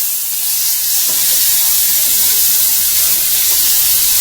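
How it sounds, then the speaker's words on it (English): Big pieces of meat sear in a cast iron skillet, giving a steady, loud, broadband sizzle and hiss that fills the whole stretch without pause, with no voices. "I'm going to sear these big pieces now."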